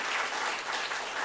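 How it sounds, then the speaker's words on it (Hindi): Audience applause breaking out at a Buddha sculpture unveiling in a Dr. Ambedkar reading room, a dense, steady wash of many hands clapping at once, loud and continuous throughout with no voices over it. "इस उपलक्ष्य में जोरदार तालियां बजाई जाए उनके लिए"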